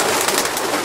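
A male racing pigeon coos close by in a loft, a short soft throaty call heard alone without talk.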